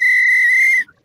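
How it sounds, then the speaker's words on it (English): A single loud, steady whistle blast held for almost a second, then cut off abruptly. "blow the whistle to make a whistle noise"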